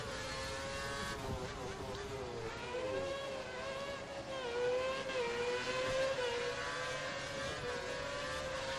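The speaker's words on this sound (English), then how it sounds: "I can hear his engine louder than mine" Formula One race car engines howl in the F1 2013 video game at the Bahrain Grand Prix, a steady high whine that swoops up and down with gear changes and throttle, running continuously with no voices.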